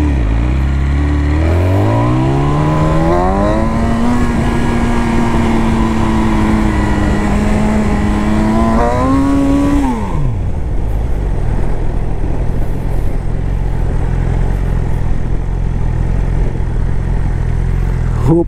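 A BMW S1000 motorcycle engine on a deserted track revs up loud and close, its pitch climbing and holding through acceleration for about ten seconds before dropping sharply to a low rumbling idle.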